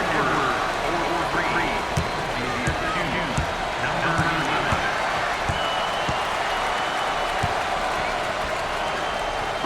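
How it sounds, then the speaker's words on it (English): A hometown crowd roars and applauds in a simulated NCAA March Madness basketball video game, a dense, steady wash of cheering layered with sharp ball bounces and sneaker thumps throughout. "this hometown crowd is showing their appreciation"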